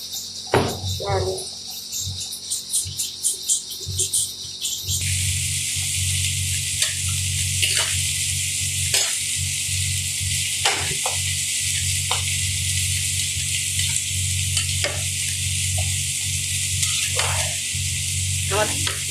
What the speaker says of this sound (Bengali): করলা আলু দিয়ে মাছ রান্না করবো